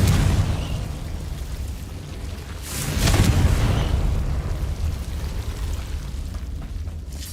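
A Confringo fire spell explosion in Hogwarts Legacy, a rumbling burst that swells around the three-second mark over a steady roaring background, loud and close, with no voices.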